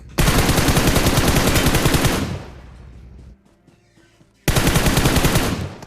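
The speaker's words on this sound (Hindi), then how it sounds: "उसी टाइम पे पीछे के साइड फायर कर रहा था हम लोग पे" Sustained rapid automatic gunfire from a battle royale video game, loud and close, running in two long bursts separated by a quieter gap with faint game sounds.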